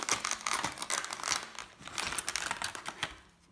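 Plastic packaging of a Hexbug radio-controlled cat toy mouse is cut open and handled, giving dense, continuous crinkling and crackling close up for several seconds with no talk.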